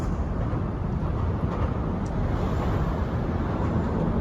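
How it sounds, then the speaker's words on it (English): Heard from underneath the Mississippi River Bridge, traffic passes overhead as a continuous, dense rumbling wash of vehicle noise with no clear breaks and no voices. "That noise you hear is traffic passing over above us."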